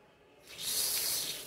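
Cold water bursting from a just-opened tap during a plumbing pressure test, a steady broadband hiss that starts abruptly partway through and holds loud and close to the end.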